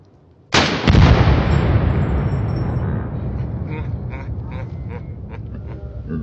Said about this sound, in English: That was a bigger explosion.